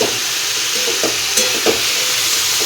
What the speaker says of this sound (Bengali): এই যে আলু বেগুন পেঁয়াজ লঙ্কা টমেটো দিয়ে আলু চচ্চড়ি বসিয়ে দিলাম